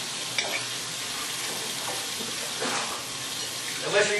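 Red snapper frying in hot oil, a steady close sizzle and crackle with a few brief pops and stirring clatters, moderately loud and continuous.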